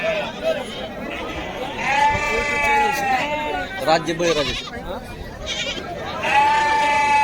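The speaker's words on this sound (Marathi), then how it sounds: "अशा प्रकारच्या मेंढ्या आणि बालिंगे तुम्हाला पाहायला मिळते काष्टीच्या आजच्या बाजारामध्ये" Sheep and rams bleat repeatedly at the Kashti livestock market, several wavering calls rising over crowd chatter, with someone talking nearby.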